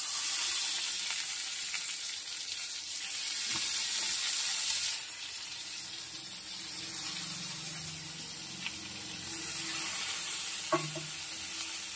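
Boiled arum stalks frying with onion in a pan, a steady sizzle filling the whole stretch with occasional scrapes and stirring knocks, close and moderately loud, no voices.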